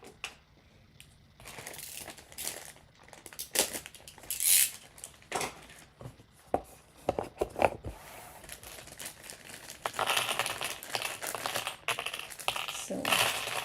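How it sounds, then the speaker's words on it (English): A penknife slits and tears open the plastic and cardboard wrapping of a jigsaw puzzle package, with close, irregular crinkling, scraping and tapping that grows busier and louder toward the end. "I'll have to use a penknife"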